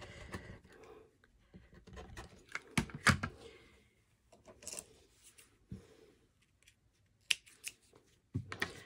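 Rotary blade slicing through four stacked fabric quilt squares at once on a cutting mat, a series of short, crisp scraping and clicking strokes separated by quiet pauses, faint and close.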